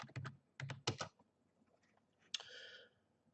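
Quiet computer keyboard typing, a few quick bursts of key clicks followed by a single heavier key press, close and alone.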